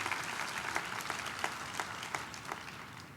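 Applause from a conference audience at a closing plenary session, honoring the meeting organizers: a steady wash of many hands with a few sharper individual claps standing out, moderately distant and continuous throughout.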